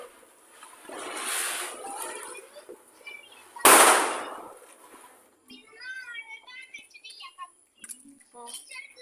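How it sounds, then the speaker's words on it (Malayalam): Firecrackers burst during a Vishu celebration: a crackling burst, then one sharp loud bang, followed by scattered lighter pops and chirpy sounds, with faint voices in the background. "അത് കഴിഞ്ഞാ നിങ്ങളെ പടക്കം പൊട്ടിക്കല്"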